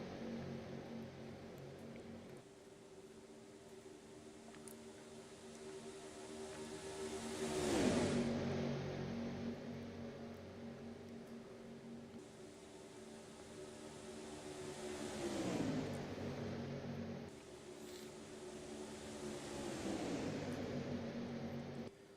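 A stock race car running poorly and off the pace laps Talladega in a simulated Cup Series race, its engine droning steadily with rising revs and a few sharp downshift-like drops, fairly loud and continuous without talk.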